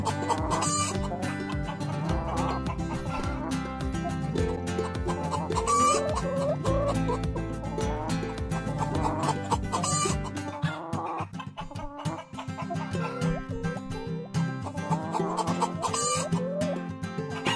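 Free-range domestic chickens on a farm cluck continuously in a busy flock, with overlapping calls and no talking.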